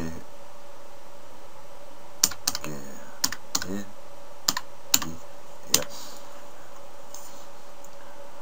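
Scattered keystrokes on a computer keyboard, a handful of sharp separate clicks close by against a quiet background hum, typed while entering a browser name.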